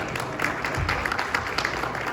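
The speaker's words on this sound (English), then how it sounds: "Give him a round of applause." Audience applause at a business growth conference, a steady wash of clapping from a seated crowd, moderately loud and continuous through the short stretch with no talking over it.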